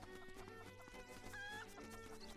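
Chickens cluck in the Zelda Link's Awakening video game, a few quick fowl calls over a busy layered game music bed, short and fairly faint.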